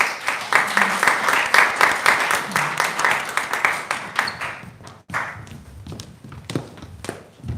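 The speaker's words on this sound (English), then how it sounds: "Let's give them one more round of applause." An audience at a student scholars' showcase gives a round of applause, dense clapping that fills the first five seconds and then thins to scattered claps and thumps, with some talk mixed in.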